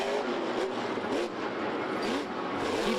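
The Scooby-Doo monster truck at a Monster Jam show in Ford Field, Detroit, roars with a loud, dense, continuous engine drone that swells and dips slightly throughout, with no talk.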